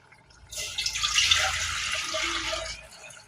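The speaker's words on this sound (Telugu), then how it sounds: "ఫస్ట్ వాటర్ పోసుకోవాలి." Water pours steadily into a cooking pot for mango rasam, a close splashing stream that starts abruptly and runs for a couple of seconds before stopping.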